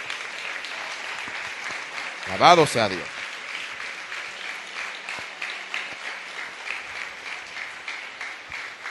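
A church congregation applauds under ongoing talk, with a spoken exclamation over a steady background of clapping and voices that continues for several seconds.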